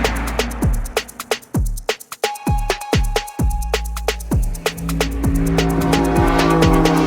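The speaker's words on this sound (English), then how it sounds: "Classic looking E30, apparently a 318 3-door originally, now with a 328 engine conversion and an E36 gearbox." A BMW E30, originally a 318 three-door, now with a 328 engine conversion and an E36 gearbox, drives hard on a track. The engine note is loud and close, with repeated sharp rev climbs and drops through the gear changes.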